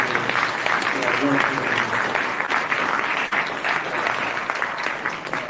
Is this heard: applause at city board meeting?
yes